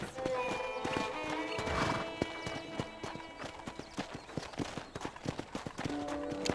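Rhythmic clip-clop of horse hooves trotting steadily in Red Dead Redemption, with a brief neigh early on and a continuous musical background underneath.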